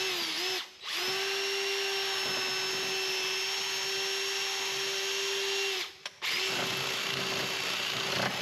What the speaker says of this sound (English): We gotta hone this side out a little bit. It's a little tight.